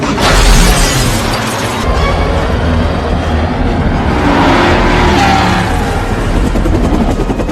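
A speeding car in a film car chase makes a loud, continuous rushing roar that stays at one steady level throughout, with a sharper crash-like burst near the start.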